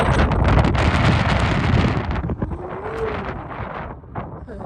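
Strong wind gusts of about 15 mph buffet the microphone outdoors with a roaring rumble that eases after a couple of seconds, leaving softer blustery noise.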